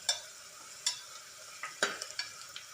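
Curry leaves and pandan sautéing with softened onions in a pan for a vegetable kurma: a quiet, low sizzle broken by a few sharp spoon clicks and scrapes against the metal.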